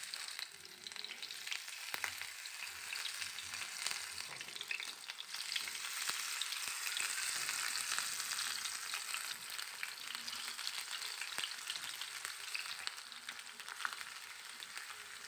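Prawn fritters fry in hot oil in a frying pan, a bright, steady sizzle with crackling pops that stays close and even throughout, with no talking.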